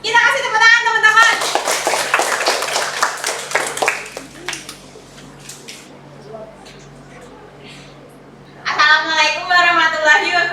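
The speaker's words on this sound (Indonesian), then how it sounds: "Kita kasih tepuk tangan teman-teman." Classmates clap for a presenting group at the front of a classroom, a burst of lively clapping under children's voices that tapers into a few scattered claps and quiet room sound, then voices return.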